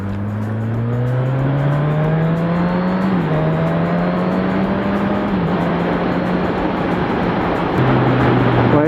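A Suzuki 1000 Katana motorcycle engine revs up hard through the gears, its loud, steady tone climbing in pitch with brief dips at each shift, close and continuous, with wind rush throughout and no talking.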